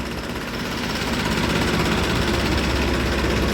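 A tractor engine runs steadily out in a farm field, a loud, continuous low rumble with a rough, throbbing idle texture and no break or speech.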